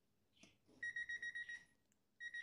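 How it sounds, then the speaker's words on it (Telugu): An HTC voltage tester held against a live wire gives a quick run of short, evenly spaced electronic beeps, then pauses briefly before the beeping starts again; the beeps are close and clear over a quiet background. "బీప్ అనుకుంటా వస్తుంది"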